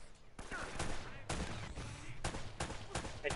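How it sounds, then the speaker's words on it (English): Rapid bursts of video game gunfire in Uncharted: Drake's Fortune crack repeatedly in quick succession, loud and close, with a few heavier blasts among the volleys. "I'm already hearing gunshots."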